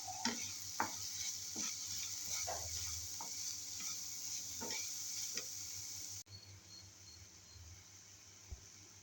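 Masala sizzles and fries in a pan for paneer cheese dosa, with steady frying hiss and repeated scraping stirs of a spatula, then cuts to a quieter room tone after about six seconds.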